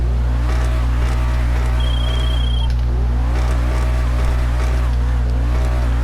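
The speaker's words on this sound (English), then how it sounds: "Let's get a rev really quick." Ubermacht SC1 sports car engine in GTA Online revving in repeated rising and falling sweeps over a steady low idle drone, loud and close, with rain in the background.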